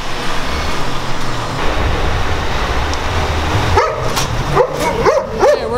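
A dog barks several times in quick, uneven bursts near the end, heard over steady road traffic noise outdoors.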